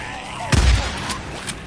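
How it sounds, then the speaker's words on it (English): A single heavy shotgun blast in Days Gone: one loud, deep boom near the start, followed by a quieter rumbling ambience with faint scattered clicks. "Okay, shotgun time."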